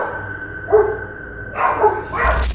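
A husky and a German shepherd bark at a prowling mountain lion in a driveway: three short, sharp barks or yips spaced about a second apart, fairly close, over a quiet background.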